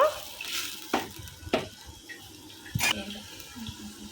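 Onion and tomato puree stirred in a pan for egg curry, a few distinct scraping strokes of a spoon against the vessel with wet sloshing between them, close and fairly quiet, no talk.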